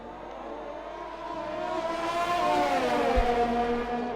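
F1 race cars run on a track in a racing video game set at Abu Dhabi, with engine whine rising and building in pitch as a car accelerates and passes, and other engines droning alongside.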